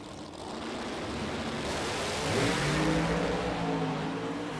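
Drag race cars with 600 cubic inch, high-compression engines and big camshafts at a street nationals event roar loudly and steadily, the engine note swelling partway through with no talk over it.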